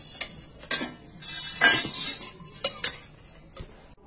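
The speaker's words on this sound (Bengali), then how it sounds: "আমি এটাকে একটা প্লেটের মধ্যে ঢেলে নিচ্ছি" Dry-roasted spices tipped from a pan onto a plate, with clinks and scrapes of a utensil against metal and crockery arriving in irregular bursts, one louder clatter in the middle, and quiet stretches between.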